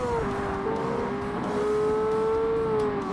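A Ferrari 360 Modena in the racing game Forza Motorsport holds its engine against the rev limiter, a loud, steady high-pitched drone that wavers slightly as it bounces on the cutoff, continuous and alone.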